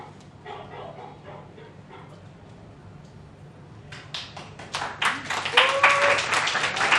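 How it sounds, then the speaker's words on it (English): Several dogs bark in a stage production of The House of Bernarda Alba, first faint and distant in a scattered series, then growing louder and denser into a frantic cluster of overlapping barks and yips. "The dogs are going mad."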